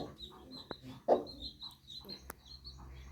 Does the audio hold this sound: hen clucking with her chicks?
yes